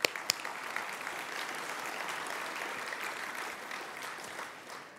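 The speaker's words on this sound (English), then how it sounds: "How about a round of applause for that?" An audience at the San Francisco Asian Pacific American Heritage Awards breaks into sustained applause, a dense steady clatter of many hands that holds evenly and tapers slightly at the end, with no talk over it.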